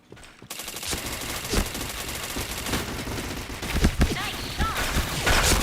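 Rapid gunfire from a shooting video game, dense bursts of shots and fusillade running continuously at a loud level, with some talk mixed in underneath.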